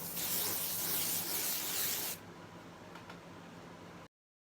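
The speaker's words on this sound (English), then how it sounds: "So then I would take my spray adhesive" A steady hiss of spray adhesive from an aerosol can for about two seconds, fairly close, then it cuts off leaving quiet room noise.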